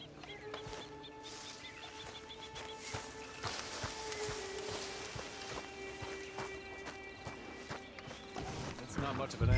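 A horse's hooves clip-clop at a walking pace in Red Dead Redemption 2, steady and moderately close, amid game ambience with birds and occasional speech.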